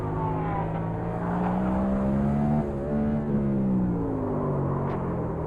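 Race car engines whine and hum along pit road at the Circuit of the Americas, a steady tonal drone shifting pitch as cars go by, somewhat distant and muffled under a static-laden radio hiss.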